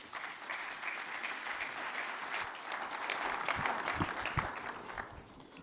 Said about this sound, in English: please give Nick Savvides a big round of applause